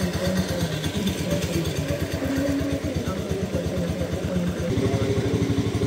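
A Honda Beat scooter engine idles steadily while warming up, a close, continuous putter with an even rapid pulse and light mechanical clatter, heard alone without talk.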